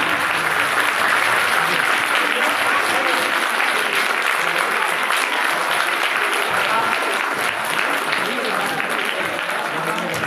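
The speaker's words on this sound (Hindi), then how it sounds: "आपकी तालियों की गड़गड़ाहट नहीं रुकनी चाहिए" Thunderous, sustained applause from a large crowd at a religious conference, a dense unbroken roar of clapping that stays loud and steady throughout, with voices mixed in.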